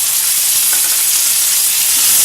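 Tomatoes and curry leaves being sautéed for a Chettinad mutton and jackfruit seed masala give a loud, dense, hissing sizzle up close, steady from start to finish.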